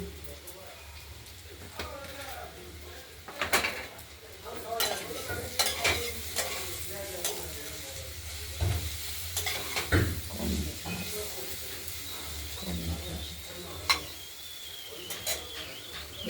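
Flat beans fry in oil in a wok with a mustard seed and green chilli tempering, giving a steady low sizzle broken by repeated scraping and stirring clatters at irregular intervals.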